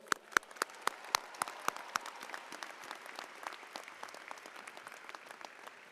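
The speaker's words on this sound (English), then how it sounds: "Let's give this moment a round of applause." Scattered, fairly sparse clapping at a university commencement ceremony, with a few distinct sharp claps up front over a softer spread of applause that stays quiet and thins out, heard in a large space.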